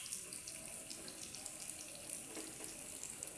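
Pieces of fish frying in hot oil give a soft, steady sizzling hiss, faint and continuous, with no voices.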